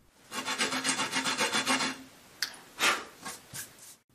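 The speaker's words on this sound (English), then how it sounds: "rub the tip back and forth to sand it down, turning the shaft frequently" Sandpaper rubs back and forth against a pool cue tip in about eight quick rhythmic strokes, followed by a few louder separate scrapes and puffs, close and clear with no talking.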